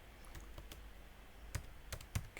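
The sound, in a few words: typing on a computer keyboard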